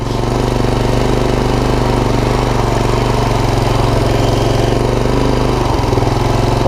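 A worn Honda TRX250 ATV engine runs steadily at close range, a continuous buzzing putter with a constant low throb and no voices.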